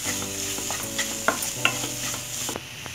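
Maggi masala frying in a pan for veg masala pasta, with sizzling under repeated scrapes and taps of a spatula against the pan, then quieter toward the end; no talking.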